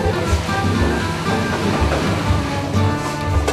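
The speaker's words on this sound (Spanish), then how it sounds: "se lava con agua tibia eliminando la sal adherida" Cured ham pieces being washed with warm water, a loud, steady rush and splash of running water throughout with no pauses.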